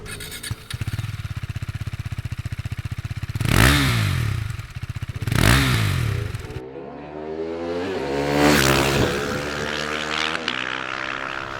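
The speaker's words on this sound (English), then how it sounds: "And the last part is obviously the exhaust note." A 2017 KTM RC390 motorcycle engine idles with a rapid, even exhaust pulse, then revs up sharply twice and swells again before settling back, loud and close.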